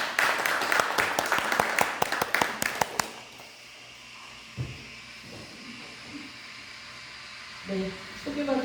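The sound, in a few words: audience applause welcoming the speaker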